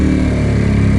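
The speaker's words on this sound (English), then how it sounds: "let's just listen to the bike for a bit." A Ducati 916 motorcycle engine runs steadily nearby, a loud, even, deep throbbing rumble held at a constant pitch without talk.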